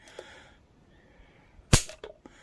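Dry-fire trigger pull on a Beretta APX pistol during a tabletop comparison: faint handling noise, then one sharp close click followed by a couple of smaller mechanical clicks.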